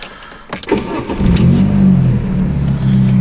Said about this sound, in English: we can take this thing for a test drive